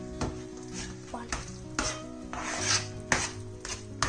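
Moong dal halwa stirred with ghee in a pan, a spoon scraping and rubbing in repeated close strokes over a soft sizzle and low background hum.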